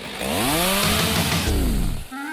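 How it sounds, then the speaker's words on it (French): A loud chainsaw revs and whines steadily for about two seconds, pitch rising and falling, then cuts off abruptly into a quieter idle. "J'utilise une tronçonneuse."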